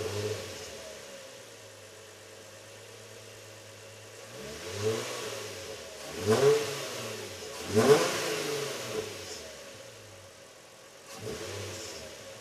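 A G35's engine, fitted with a big-bore throttle body and bigger plenum, cranks and catches on its first start, then revs up in several rising bursts before settling to a low idle, fairly close and clear.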